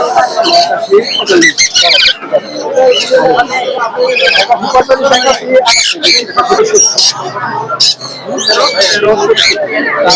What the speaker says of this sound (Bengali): এখানে অসংখ্য লাভবাদ পাখি আছে।